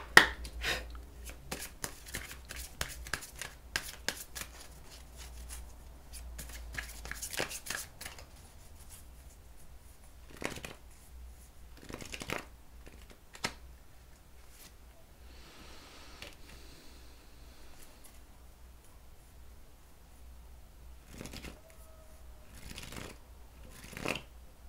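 Playing cards are shuffled and handled up close, with dense riffling bursts early on, then scattered sharp flicks and snaps of the deck separated by quiet gaps.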